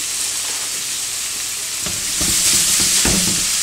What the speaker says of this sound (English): We'll just leave it open like this and let that butter dissolve in there and get nice and good.